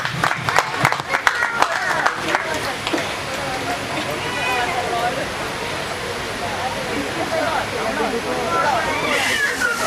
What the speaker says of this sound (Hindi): तो एक बार इनकी सालियों के लिए और जीजा जी के लिए जोरदार तालियां।